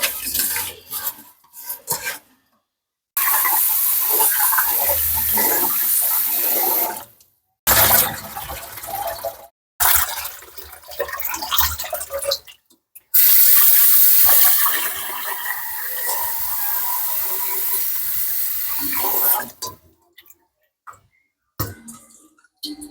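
Small fish being washed by hand under a running kitchen tap, with salt used in the wash; water streams in long bursts broken by short pauses, with faint clinks of a vessel, close and without talk.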